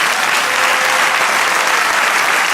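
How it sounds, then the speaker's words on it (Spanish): A church congregation applauds loudly and continuously, a dense close wash of many hands clapping with no pauses. "Denle un aplauso al Señor."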